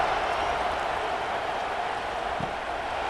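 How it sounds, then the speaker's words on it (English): A stadium crowd in a college football video game gives a steady, broad roar of cheering at a moderate level, continuous throughout with no clear voices. "this crowd is buzzing after that last score."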